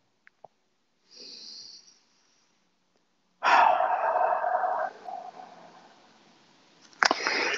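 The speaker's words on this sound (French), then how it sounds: "je vais prendre une grande respiration" A deep breath taken slowly and close to the microphone: a short inhale, a pause, then a long, loud rushing exhale that fades, followed by another breathy burst at the end.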